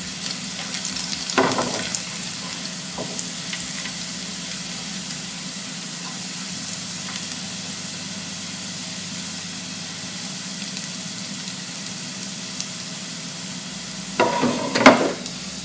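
Red onions frying in a pan with a steady low sizzle throughout, broken by brief clatters of stirring near the start and a louder burst of scraping toward the end.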